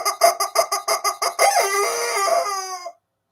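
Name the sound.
squeezed rubber chicken toy squawking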